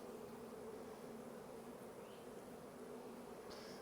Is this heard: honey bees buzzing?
yes